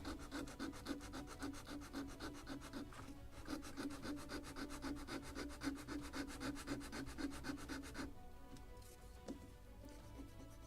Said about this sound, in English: More sanding here.